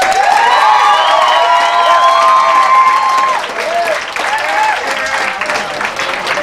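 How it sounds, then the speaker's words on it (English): Audience at an art battle in the Bowery Poetry Club bursts into loud, dense applause mixed with cheers and whoops, dipping a little in volume partway through but staying continuous. "Clap it up for the guy behind the camera."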